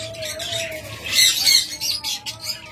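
Pet birds such as lovebirds, budgerigars and cockatiels squawking nearby, a run of harsh, shrill calls overlapping in quick bursts, louder in the middle, with chirps scattered around.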